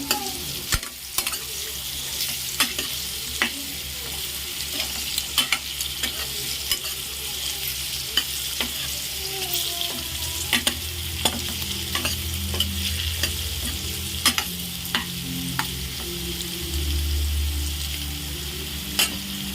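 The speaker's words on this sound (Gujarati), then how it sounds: "આપણે એને આ રીતના બધું મિક્સ કરી લઈશું।" Steady sizzling of okra frying in a little oil, with a spoon repeatedly scraping and tapping the pan as it is stirred, close by and continuous.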